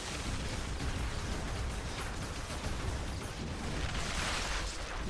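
A rocket launch and impact in a Warhammer 40k strategy game, dense roaring rumble and crackling explosion noise filling the whole stretch, loud and continuous without distinct separate blasts.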